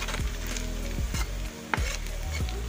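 Vegetables fry steadily in hot oil for aloo gobi pulao, a continuous close sizzle broken by a few scraping stirs of a spoon against the pan.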